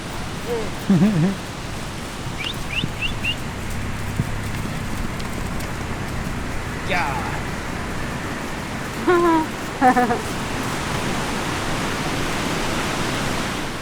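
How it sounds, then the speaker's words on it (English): Steady hiss of rain falling continuously in Costa Rica, with a few bird calls and brief voices breaking through now and then. "Oh, the rain's coming."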